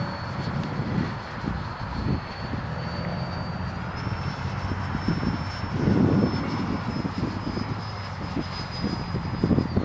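An electric Freewing RC model airplane takes off roughly from grass, a thin motor whine rising in pitch and holding steady over a rumbly, uneven background of wind and handling noise.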